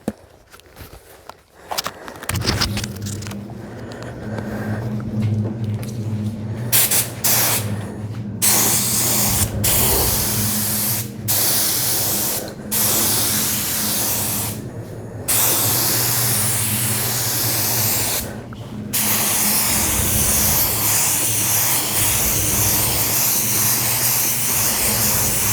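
A spray gun lays a clear finish coat over cabinets: a loud, steady, close hiss of atomized spray that runs in long passes, broken by a few brief stops when the trigger is released. No one speaks.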